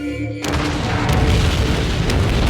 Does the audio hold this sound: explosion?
yes